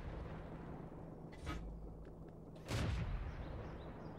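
Two tank cannon shots ring out in World of Tanks: a muffled boom partway through, then a louder, fuller blast near the end, both over a steady low engine hum with no talking.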